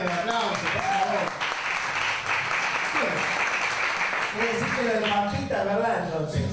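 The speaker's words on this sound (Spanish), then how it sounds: "Fuerte el aplauso, por favor." Studio audience applause rolls through a Spanish-language TV comedy show, a steady wash of clapping at moderate level with voices talking and cheering over it, rising again near the end.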